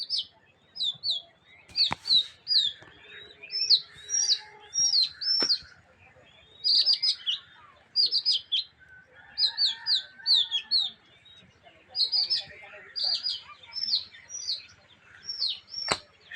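A flock of pigeons and other birds flies outdoors amid steady, rhythmic chirping. Bursts of calls repeat every second or so, with occasional sharp flutters and wingbeat thumps, fairly close and clear and without talk.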